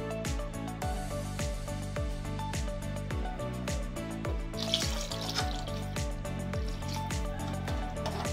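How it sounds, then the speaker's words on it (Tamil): Water runs and splashes into a cooking pot in a steady stream, with rhythmic gurgling pulses throughout and no speech. "நம்ம 3 டம்ளர்ஸ் தண்ணி ஊற்றணும்"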